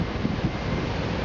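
Wind blowing on a cruise port stop at St. Martin, a steady broadband rush with no breaks, like gusts buffeting a microphone near the water.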